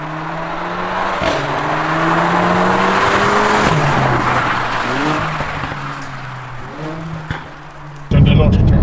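A Mercedes A45 AMG with a 2-litre engine revs hard and loud up close, the exhaust note rising and falling through several pulls with sharp crackles and pops, ending in a sudden louder burst.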